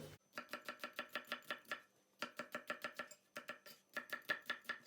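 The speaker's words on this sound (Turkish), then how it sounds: "Malzemesini doğrayalım" Rapid, rhythmic knife chops through onions on a cutting board, in several quick bursts separated by short pauses, close and crisp.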